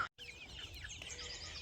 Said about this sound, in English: these are some dual purpose chickens and we are using them to replace our meat birds